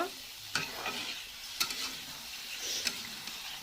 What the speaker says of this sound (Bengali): ভেজে রাখা আলু আর কচু এগুলো ভালো করে একটু এভাবে নাড়িয়ে চাড়িয়ে কষিয়ে নেব